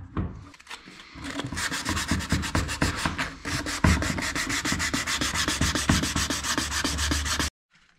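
A car headlight lens is sanded by hand with 270 grit sandpaper, rapid rhythmic back-and-forth rasping strokes, close and loud, continuing steadily before stopping.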